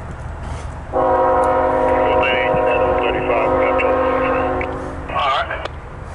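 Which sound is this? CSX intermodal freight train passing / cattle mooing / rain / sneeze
CSX intermodal freight train passing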